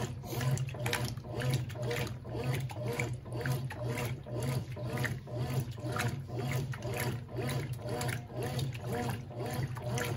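Brastemp Ative BWL11 washing machine running with water, a low steady churning hum with rhythmic sloshing and trickling from the drum, continuous and moderately close.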